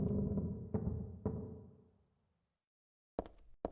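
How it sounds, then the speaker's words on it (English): Wooden floor creaking in an auto shop in the video game Silent Hill 3, a low groaning creak with a couple of sharper knocks that fades to silence, followed by a few brief clicks. "On a less serious note, we have this floor creaking in the auto shop."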